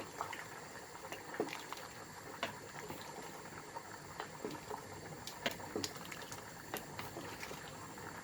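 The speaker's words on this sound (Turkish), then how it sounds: "Orta ateşte yaklaşık zaten bir 10 dakika kadar daha pişirirsek hazır hale gelecek." A pot of Turkish meatball stew (sulu köfte) simmers over medium heat, giving a steady quiet bubbling with soft irregular pops and blips throughout, close up, with no voices.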